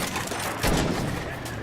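Machine gun fire in a multiplayer war video game, a dense continuous rattle of rapid shots with a heavier burst midway, loud and close, with a voice talking over it.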